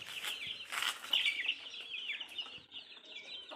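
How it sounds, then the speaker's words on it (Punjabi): Chickens and young chicks cluck and peep steadily inside a shed, a dense overlapping chorus of bird calls close by with no talk. "ਸਾਰਾ ਨੋਰਾ ਆਪਣਾ ਭਰਿਆ ਪਿਆ ਕੁਕੜਾਂ ਨਾਲ ਚੂਚੇ ਚੂਚੇ ਹੋ ਗਏ"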